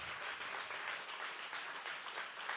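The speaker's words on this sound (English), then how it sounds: "you can give him a round of applause" An audience at a live concert at Campus JAX claps in a fairly faint, steady patter of applause that continues without pause for a couple of seconds.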